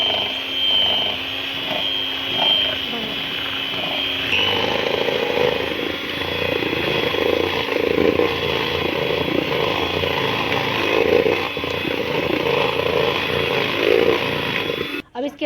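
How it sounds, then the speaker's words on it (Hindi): Electric mixer whirring steadily as it beats ghee and sugar for cumin biscuits, the motor's tone shifting as the mix thickens, a loud continuous drone that cuts off at the end. "अब इसके अंदर चीनी डालेंगे और फिर इसको दोबारा बीट करेंगे।"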